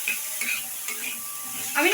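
Chickpeas fry in a pan and are stirred, giving a close sizzle with repeated scraping strokes and a louder stir near the end.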